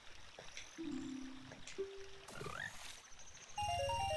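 Frogs croak in Ocarina of Time at Zora's River, a few short game-sound croaks and tones over the gentle trickle of a stream.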